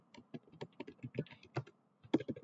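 Typing on a computer keyboard, with close, quiet keystrokes in an uneven run of individual clicks and short bursts, heard alone with no talking.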